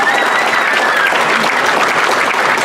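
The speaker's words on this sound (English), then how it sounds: "give a big round of applause for Mario Cochabito" An audience at a high school football team's 50th reunion applauds loudly and steadily, a dense crowd clapping up close with a few faint cheers mixed in.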